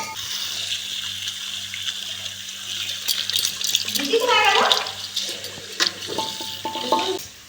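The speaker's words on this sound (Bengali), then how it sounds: "আমি কুলটাকে আগে প্রথমে ধুয়ে নেব, ধনেপাতাটাকেও আমি ধুয়ে নেব" Jujube fruit and fresh coriander leaves are rinsed under running water, a steady splash and trickle nearby with brief handling noises, as someone speaks over it.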